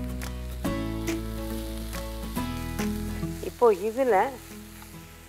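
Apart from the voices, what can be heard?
vegetables and onion frying in pan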